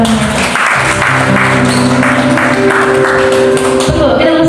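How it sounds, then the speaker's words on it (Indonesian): Congregation at a worship service in a Jakarta apartment clapping in praise to God, a loud, continuous patter of many hands blended with sustained music tones and some voices throughout. "Berikan tepuk tangan kepada Tuhan"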